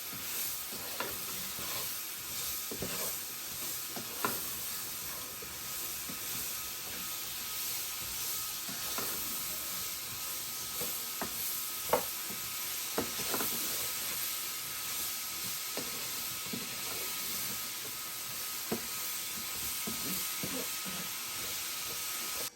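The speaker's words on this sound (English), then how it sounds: "Now add the apple slices into the sugar and cinnamon mixture and stir that into it and let it saute for 3 minutes" Apple slices sauté in a sugar and cinnamon mixture for a French apple tart, giving a steady soft sizzle. A utensil stirs through the pan with scattered light scrapes and clicks.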